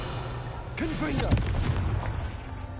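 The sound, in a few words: Confringo fire spell blast, video game Hogwarts Legacy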